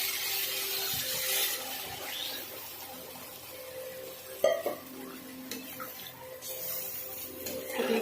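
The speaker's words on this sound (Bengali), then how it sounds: "দিয়ে দেবো জল" Water is poured into a pan of ridge gourd and prawns cooking in very little oil and spice. A rushing splash rises and falls, with a brief knock partway through, heard near and moderately loud.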